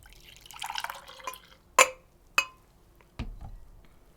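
Pour-over decaf coffee drips from a brewer: a soft trickle gives way to three distinct, fairly loud drops spaced about a second apart in a quiet room.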